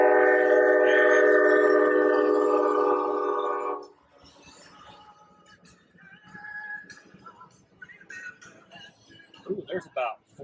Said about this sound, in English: we are just now capturing a train and a passenger train